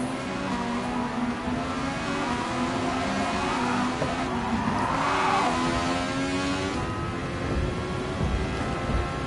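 A race car slides in Gran Turismo Sport, its engine droning steadily while the tires scrub and squeal through a long skid, loud and continuous with no voices.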